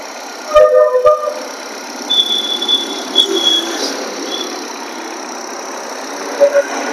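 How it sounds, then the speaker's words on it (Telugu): A 2010 Hyundai i10 engine idles steadily and fairly close, with a couple of sharp clicks near the start and faint higher whines drifting over the continuous rumble, and no talking. "ఒకసారి మీకు స్టార్ట్ చేసి దీని ఇంజన్ సౌండ్ చూపిస్తా చూడుర్రి."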